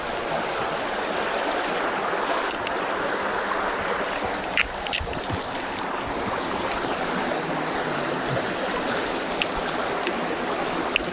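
A river stream flows beside a hut in a dense forest, a steady, loud broadband rush of water with faint scattered clicks and no voices.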